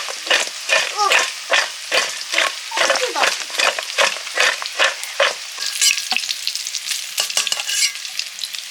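Potatoes frying in a pan while being stirred, with repeated scraping strokes in a steady rhythm over an ongoing sizzle, close and fairly loud.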